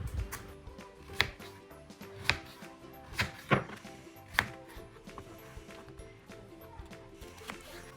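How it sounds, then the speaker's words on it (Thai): Repeated knife chops through pumpkin on a cutting board, sharp irregular knocks a second or so apart, close and clear over quiet room noise. "ปอกเปลือกเสร็จแล้วนำมาหั่นเป็นชิ้นพอดีคำค่ะ"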